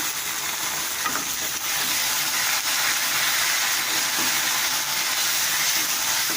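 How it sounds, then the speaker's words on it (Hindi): Masala frying in a pan just after yogurt has been added for a brinjal bhurta: a steady, loud, close sizzle and hiss that holds unbroken throughout. "देखिए हमारा मसाला जो है वो भुन रहा है।"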